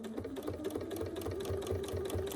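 A sewing machine stitching in the ditch along a quilt seam with 40-weight thread, its fast steady needle rhythm close and alone.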